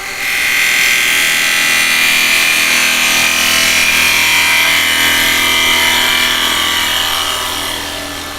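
A wood lathe turning a bowl while a gouge takes a peanut cut: a steady, loud hissing scrape with a whining hum, sustained close up and fading slightly at the end.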